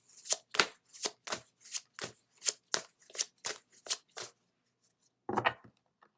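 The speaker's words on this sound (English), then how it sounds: "we'll pull a card from the Cosmic Journey Oracle deck" Cards from a Cosmic Journey Oracle deck are shuffled in about a dozen quick, crisp riffling bursts in a steady rhythm, then a pause, followed by one last softer shuffle, close and clear with no speech.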